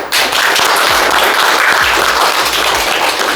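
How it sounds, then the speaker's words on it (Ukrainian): Sustained applause from an audience at a school award ceremony honoring talented students in Brody, Ukraine, dense steady clapping that fills the space from start to finish with no talk. "Аплодисменти для вас."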